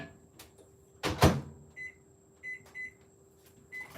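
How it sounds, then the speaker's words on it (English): A microwave oven runs with a steady electrical hum while melting pretzel wreath treats in short bursts. There is a loud knock near the start and a few soft clicks and chirps later, with no talking. "So I'm gonna do like 15, 20 seconds in the microwave."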